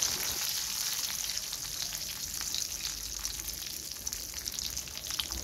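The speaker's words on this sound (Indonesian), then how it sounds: "Selanjutnya masukkan petainya, ini kita goreng sampai sedikit agak layu." Petai beans frying with anchovies in a pan give off a steady, dense sizzle with crackling pops, close and continuous throughout, with no talking.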